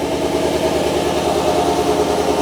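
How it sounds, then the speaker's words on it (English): A Chevy Silverado pickup engine idles after a cold start with a low, even rumble and a faint rhythmic throb, continuous and fairly loud throughout. "this is a cold start, so we're gonna let it idle for a bit"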